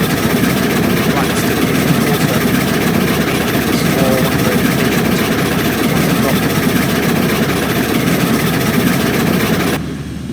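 Climax geared steam locomotive running in the Railroads Online game, a steady loud chugging engine drone filling the whole stretch with a constant low rumble, cutting off abruptly near the end.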